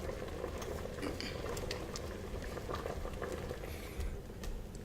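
A pot of fruit jam with a quince-like aroma simmers and reduces, giving a faint, steady bubbling fizz with small scattered pops and light clinks close by.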